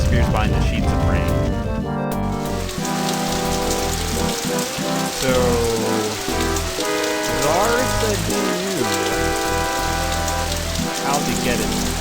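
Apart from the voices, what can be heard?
heavy rain falling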